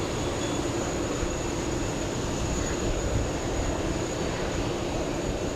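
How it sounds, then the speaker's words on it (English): An American Airlines Boeing 777 jet at JFK airport produces a steady, loud, broadband roar with a constant engine whine, unbroken for several seconds and with no voices. "We got the big American 777 flying to London."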